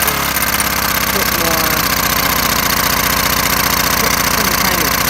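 A DIY motorized bicycle's small engine roars continuously at full throttle while the bike stands still, loud and close with a steady rattling drone and a voice speaking over it.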